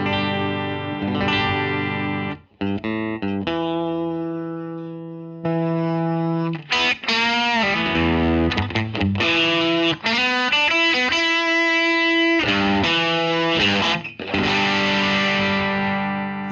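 Electric guitar played through an amp with a clean tone, ringing chords and single notes with sustained harmonics and short pauses between phrases, close and alone.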